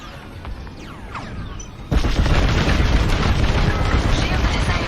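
A broadcast dish blows up in the Star Wars: Squadrons space-combat game, a loud sudden boom that gives way to a sustained roar, with a voice speaking over the start and engine and laser noise throughout.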